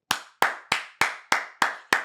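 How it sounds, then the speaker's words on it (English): Seven single sharp claps, evenly spaced and close by, each one ringing briefly in a quiet room, rather than the sound of a crowd. "Can we get a round of applause for Donald J. Trump?"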